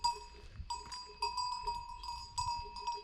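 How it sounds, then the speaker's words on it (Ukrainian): Cowbells clank unevenly in the open air as cows graze near a Carpathian railway station, with soft rustling underneath and no talking. "А, ні, ще корови пасуться."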